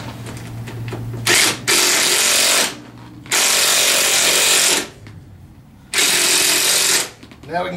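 Power tool driving bottom bolts tight on a Tao Tao 150 Hummer ATV during assembly, three loud sustained bursts of about a second each separated by short pauses, the motor whine cutting in and out.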